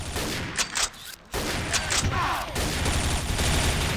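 Rapid bursts of video game gunfire crackle close by, dipping briefly around the first second, while a voice talks over the shooting.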